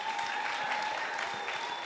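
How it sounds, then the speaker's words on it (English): An audience claps steadily for a student musical performance at a school assembly. The applause is dense and even throughout and comes from a sizeable crowd in a hall. "Please give a round of applause for them."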